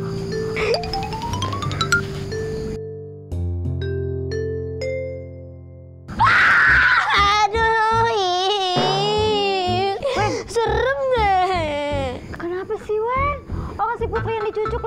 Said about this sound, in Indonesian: lu yang teriak